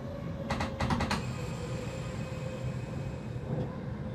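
A Buffel train braking in Train Simulator 2022: steady low rolling rumble with a thin high whine, plus a few sharp clicks early on and one near the end.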